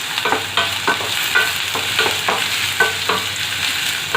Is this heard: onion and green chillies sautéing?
yes